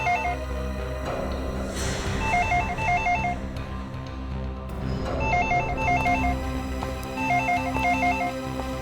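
Telephone ringing inside a house in a crime drama, repeating in regular double-burst rings roughly every two to three seconds, loud and close over a steady low background hum, with no talk.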